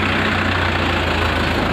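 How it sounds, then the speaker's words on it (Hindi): A tractor engine at a tractor market in Fatehabad, Haryana, rumbles in a steady low idle, close and continuous for the whole short stretch with no talking. "यहाँ से भी आप देख सकते हैं इस एंट्री से ट्रैक्टर को आते हुए"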